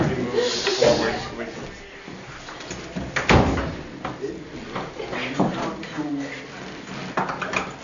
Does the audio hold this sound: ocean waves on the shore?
no